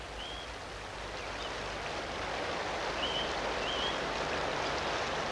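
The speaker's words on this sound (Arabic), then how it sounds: "بيلسان لم يقع في الشلال بل جرفه النهر" A cartoon river rushes in a children's animated program, heard as a steady, moderately quiet wash of water that continues alone throughout, with a few faint high chirps over it.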